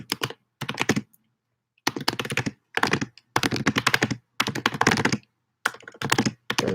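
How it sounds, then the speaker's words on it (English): Bursts of computer keyboard typing in several separate runs of rapid key clicks, close and fairly loud, with short silent pauses between them and no voices. "We must pause while I try to type."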